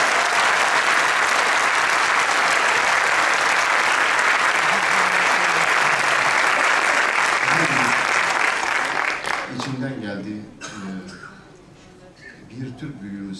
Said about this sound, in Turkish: Alkışlamamak elde değil.